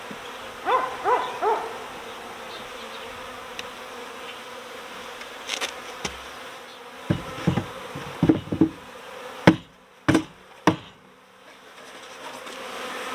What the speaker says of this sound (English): Got a pretty good clump of bees in here on the side of this vacuum box